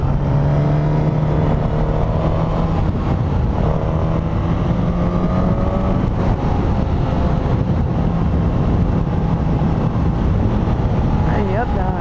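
A 2021 Suzuki GSX-S1000 four-cylinder motorcycle being ridden, its engine a steady, close, loud drone with shifting tones, continuous throughout and wrapped in heavy wind rush against the microphone.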